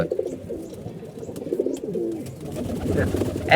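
Low, throaty cooing from a weak, sick racing pigeon repeats close by in soft rolling phrases, with faint rustling and a brief sharp sound at the end.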